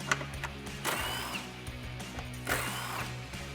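Hand ratchet working 10mm bolts at the top of a headlight on a 2015-2017 Ford F-150, with several short bursts of clicking separated by pauses, fairly quiet against a steady low background hum.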